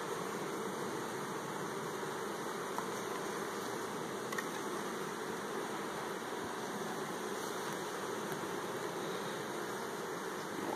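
Honeybees buzzing around a hive frame during a split of a first-year nuc, a continuous close, even drone with no talk.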